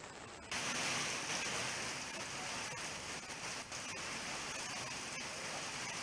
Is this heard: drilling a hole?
no